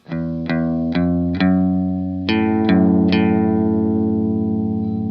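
Electric guitar with chorus-like shimmer plays the intro riff of a song, several struck notes followed by sustained chords that ring out; no voices.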